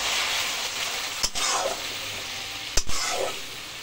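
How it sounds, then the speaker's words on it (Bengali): A spice paste of cumin powder and dried chili, moistened with a little water, sizzles steadily in a pan, with two sharp knocks of a spoon or spatula against the pan as it is stirred. "এবার সামান্য পরিমাণে জল দিয়ে মশলাটাকে আমি কষিয়ে নেব।"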